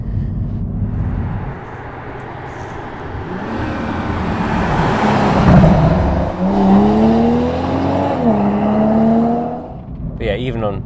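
A Toyota Mk5 Supra with the B58 engine and a Supersprint OPF-delete exhaust, heard nearby on part throttle. It gives a steady drone, then rises in pitch as the revs climb, then eases off, over a background of road noise.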